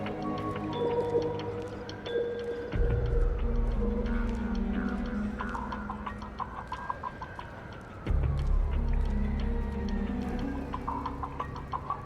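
A wavering whistled tune in the video game Metal Gear Solid 4 rises and falls over a low droning game soundscape, steady and moderately close, with clucking-like clicks scattered throughout.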